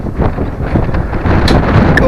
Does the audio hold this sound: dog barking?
no